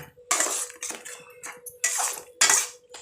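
A spoon scrapes and stirs thick herbal halwa made with mango leaves, omavalli and tulsi in a pan, in four or five separate loud strokes over a faint steady hum.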